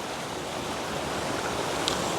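Steady broadband rush of river water flowing, continuous and fairly loud with a wind-like wash and no voices over it.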